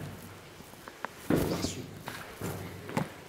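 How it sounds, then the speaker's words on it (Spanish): Footsteps in a dark, ritual-marked place, a few soft scattered steps and scuffs at low level, with a slightly heavier cluster in the middle. "Acá se escucharon pasos."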